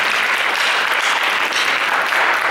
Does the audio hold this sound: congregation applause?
yes